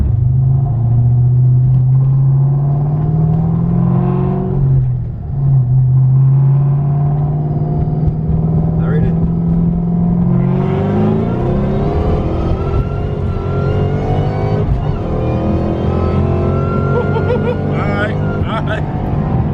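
A 2003 Mustang Cobra accelerates hard through first gear, its engine note rising steadily as it pulls, then shifting into a broader roar with wind and road noise; the car sounds close and loud throughout, with brief talk partway.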